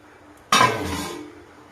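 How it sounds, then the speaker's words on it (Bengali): A lid goes onto a cooking pot of potato curry with one sharp metallic clank, followed by a short ringing decay in a quiet kitchen. "চাপাটা দিয়ে দিলাম"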